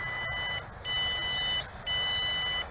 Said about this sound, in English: Man, that beep is loud.